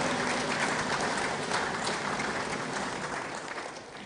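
Steady applause from an audience at the official launch of a state security trust fund, a dense wash of clapping that holds evenly throughout and eases slightly near the end.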